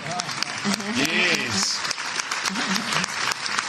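Applause from an audience at a political speech on healthcare, steady clapping beneath speaking voices, with a voice sounding over the clapping.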